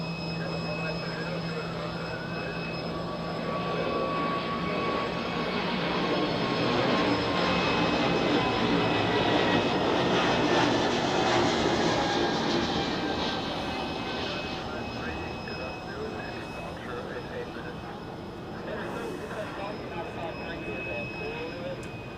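An Air Baltic jet on runway 16 at Zurich Airport gives a continuous broad engine roar that swells in the middle and slowly eases. A person talks faintly underneath.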